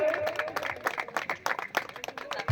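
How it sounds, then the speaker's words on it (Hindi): Clapping from a crowd at an outdoor welcome and felicitation program in Odisha, fairly faint and uneven, with scattered individual claps and a voice briefly heard beneath. "विशिष्ट कलाकार श्रीजुक्त विजय बेहेरा ताली हो"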